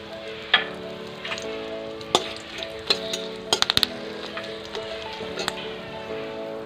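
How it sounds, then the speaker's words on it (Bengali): Whole spices, bay leaf, dried chillies, cinnamon and cardamom, sizzling in hot oil for tempering: a close, crackling fry with scattered sharp pops and clinks of spices hitting the pan, and no voices. "দুটো শুকনো লঙ্কা, গোটা দারচিনি দিয়ে দিচ্ছি"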